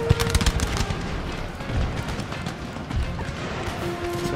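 Musket volleys and artillery fire rattle in the Empire: Total War battle game, a loud, dense crackle of overlapping shots with heavier booms scattered throughout.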